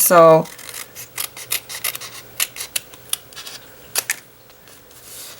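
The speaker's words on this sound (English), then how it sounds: "I just took my snips, let me grab them, and I cut this out" Metal snips cut through a scrap of embossed paper for Easter bunny punch art, giving a run of short, crisp snipping and rasping strokes at close range after a brief spoken word.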